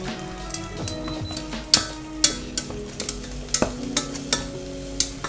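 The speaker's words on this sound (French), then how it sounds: "On mélange." Pasta being stirred with sauce in a pan over low heat while making a Hiroshima-style okonomiyaki, with a steady soft sizzle and scattered sharp scraping clicks of the utensil, close up and with no talking.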